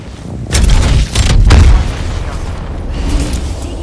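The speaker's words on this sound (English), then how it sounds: "Use this gravity cannon." A gravity cannon fires in a video game, producing loud deep booming blasts in quick succession around the first two seconds, followed by a sustained heavy rumbling hum.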